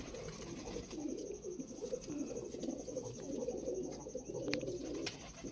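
Dubai-breed high-flying pigeons cooing, soft repeated low coos close by in a continuous murmuring flock chorus with a few sharp clicks.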